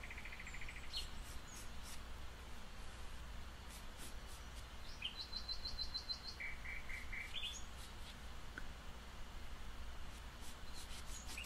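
Recorded birdsong plays back quietly: faint chirps and short tweeting phrases come and go over a constant low hum, with no voices.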